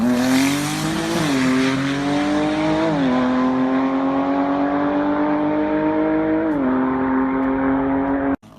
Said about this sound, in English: A Porsche doing a wheelie all the way through second.